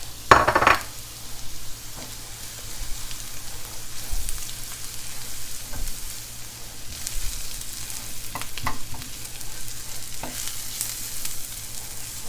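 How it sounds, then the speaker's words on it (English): Flour and sautéed vegetables are stirred in a pan to make a roux for shrimp and grits, giving soft sizzling with intermittent spoon scrapes and light clinks against the pan, close and moderate in level. "make sure you're moving this around well to get that flour coated"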